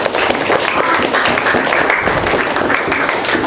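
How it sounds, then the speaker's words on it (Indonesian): Classroom applause for a student, a steady burst of many hands clapping close by, loud and continuous throughout. "Beri tepuk tangan untuk Bintang"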